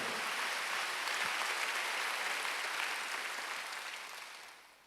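Applause from a church congregation during a Sunday worship service, a broad wash of clapping that holds steady and then gradually fades out toward the end.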